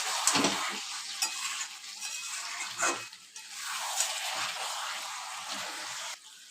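Chicken curry in a pan after red chili powder goes in, stirred with a utensil: a steady sizzle of frying with irregular scraping and clinking strokes against the pan, close and moderately loud.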